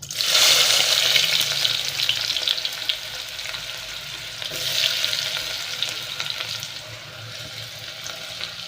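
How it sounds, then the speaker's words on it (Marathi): Onion fries in oil with cinnamon and cloves, giving off a continuous bright sizzle with occasional stirring scrapes, close and steady throughout, without voices. "कांदा भाजून घेते आणि दाखवते कांदा छान असा भाजला"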